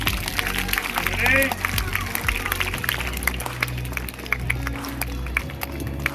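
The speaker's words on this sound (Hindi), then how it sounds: "बच्चों तालियां सतपुड़ा हाउस के लिए" Children applauding during a school sports day prize distribution, scattered clapping mixed with crowd noise and voices talking nearby.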